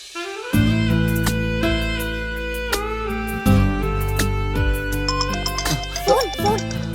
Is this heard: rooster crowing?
no